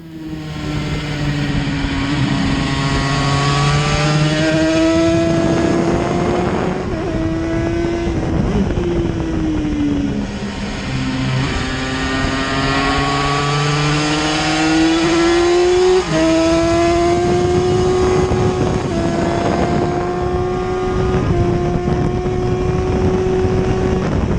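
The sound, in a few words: Yamaha TZ350 two-stroke racing motorcycle at Donington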